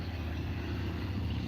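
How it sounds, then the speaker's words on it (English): A big motorcycle rides past on a road, its steady low engine rumble holding loud and close throughout without pause. "Some guy riding by on his big boomer motorcycle."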